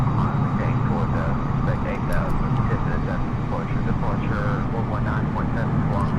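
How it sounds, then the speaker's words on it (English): An airplane's auxiliary power unit runs with a steady low droning rumble and a faint whine, a constant engine-like hum heard from inside the aircraft throughout. "I love the APU sound."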